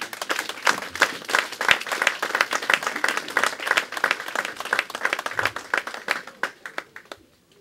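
A church congregation at a French-language service applauds in a dense, lively burst of hand clapping that fills most of the stretch, then breaks off abruptly near the end.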